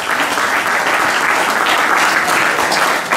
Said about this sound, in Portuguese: Vamos aplaudir Helder Leal